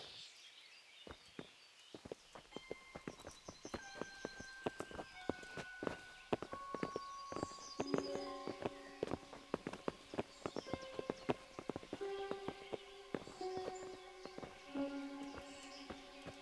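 Horse hooves clip-clopping in the medieval game Kingdom Come: Deliverance, a steady run of sharp, close knocks that carries on through the whole stretch alongside tonal music.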